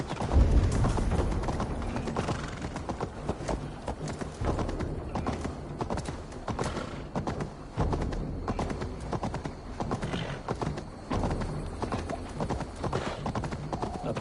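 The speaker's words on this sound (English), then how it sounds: "Stop that horse!" Horse hooves galloping in Assassin's Creed Valhalla, a steady rapid clip-clop close by with creaking tack and an occasional neigh, loud and continuous throughout.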